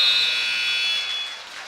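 A basketball game buzzer sounds at the end of the third quarter of a boys' varsity district playoff game, giving one loud, steady electronic tone that holds and then slowly fades over gym noise.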